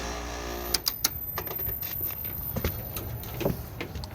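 A Carrier air-conditioning unit starts up with a run of sharp clicks and clattering knocks that settle into a rough, buzzing mechanical hum, close and steady.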